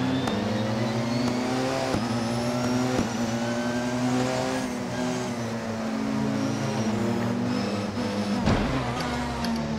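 A Porsche 919 Hybrid 2016 race car laps Brands Hatch Indy in Assetto Corsa, engine whining loudly and continuously as it accelerates and shifts, with a brief tire squeal.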